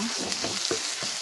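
Mung beans sautéing in a pan, their sizzle steady and close, broken by a few soft scraping stirs.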